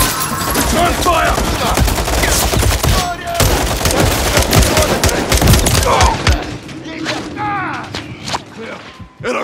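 Sustained bursts of automatic gunfire and heavy shots crackle through a Call of Duty Modern Warfare III firefight against fake police, loud and dense with thuds, while shouted voices break in, easing toward sparser shots at the end.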